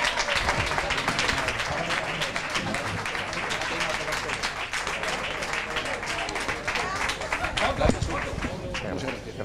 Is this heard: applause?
yes